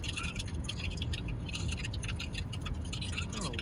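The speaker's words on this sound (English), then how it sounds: "Sounds like he's in the hail core, and you can kind of hear it bouncing off his car too." Hail pelting a car during a severe storm, a dense continuous patter and rattle of rapid ticks on the body and glass, steady and close with no voices.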